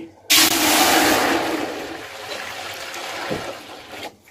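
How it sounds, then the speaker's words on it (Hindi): Water gushes into a cooking pot for boiling moong dal, starting abruptly with a loud rushing pour that gradually eases to a softer stream before stopping. "सबसे पहले हम इसमें डाल लेते हैं पतीले में पानी"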